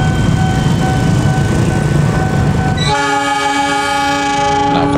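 KA Gumarang train departing Pasar Senen station in Jakarta, a loud steady rumble of the moving train joined about halfway through by a sustained, multi-tone horn blast that holds to the end.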